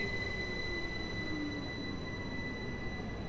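A modded Class 165 diesel train in Train Sim World 4 gives a steady, loud rumble with a faint rising whine and constant high tones, unbroken and without talk.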